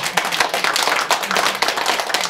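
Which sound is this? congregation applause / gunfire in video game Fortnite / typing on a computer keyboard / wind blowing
congregation applause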